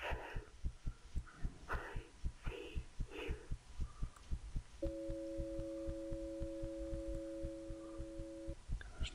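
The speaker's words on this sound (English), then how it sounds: "Why is my heart beating so much?" A heartbeat sounds in a haunted office video game, a steady thumping pulse that repeats throughout over a low hum, joined midway by a sustained electronic tone.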